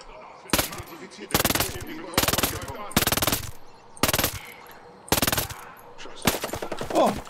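Submachine gun fire from the Ghost Recon Breakpoint video game comes in repeated loud bursts of about a second each, separated by short pauses, with someone speaking faintly between them.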